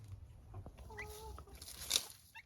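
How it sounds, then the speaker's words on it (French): A frizzle hen clucks softly near her young chicks, a few short low calls and faint peeps close by in a quiet setting. "nous voici avec ma poule frisée et ses jeunes"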